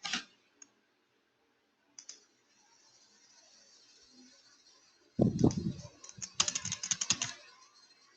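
Computer keyboard keys pressed during a Debian 8 Linux session, a few isolated clicks early on, then a dense burst of rapid typing near the end, fairly close and clear with no talking.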